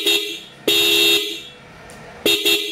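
A Kaier car horn blares in three loud, close blasts: a short toot, a long held honk, then a brief final burst, with quiet gaps between.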